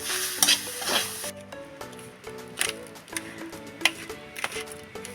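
Grated coconut frying with sugar in a pan, stirred steadily, with close rhythmic scraping strokes over a soft sizzle and occasional clinks of the utensil against the pan.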